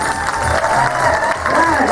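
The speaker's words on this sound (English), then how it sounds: "The more cheers, the more whistles, the more claps." An audience at a live hypnotist stage show claps and cheers with whoops, a dense, steady wash of applause and crowd noise throughout.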